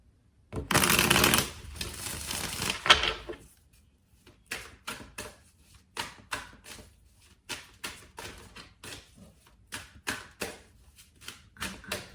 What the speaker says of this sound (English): I've seen these cards while I was shuffling